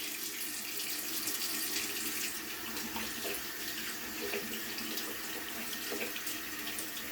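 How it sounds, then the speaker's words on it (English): Tap water runs steadily into a sink for a quick hand rinse, a continuous close splashing stream with no voices over it. "I'm going to get my hands a little wet first. And it's just a quick wash."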